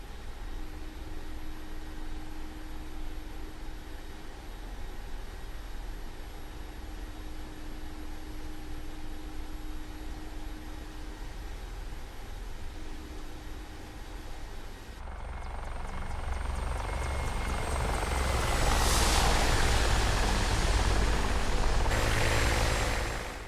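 Mi-24P attack helicopter in DCS World flight sim, a steady rotor and turbine drone that swells louder and brighter partway through, as if the engine spools up under more power, with no talk.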